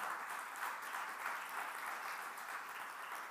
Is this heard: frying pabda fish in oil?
no